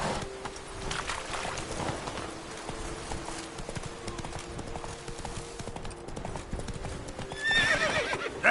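Roach, a horse in the video game The Witcher 3, gallops in quick, steady clip-clop hoofbeats, fairly faint, with a whinny rising near the end.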